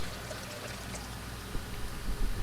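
Fuel pouring from a jerry can in the Roblox game Mixture Park, a steady hissing stream of liquid, close and moderately loud with a few faint knocks near the end.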